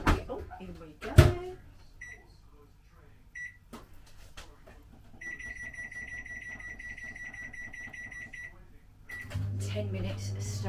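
A microwave oven heating leek and potato soup: a door thud and a few keypad beeps, then a steady low hum with a faint repeating tone, and another thump near the end, with a voice heard briefly.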